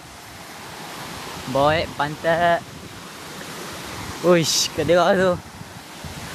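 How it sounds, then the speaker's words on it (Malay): Steady broadband rushing of the Semangkuk waterfall on Fraser's Hill in Malaysia fills the scene, with someone talking excitedly over it in two bursts. "Air terjun semangkuk."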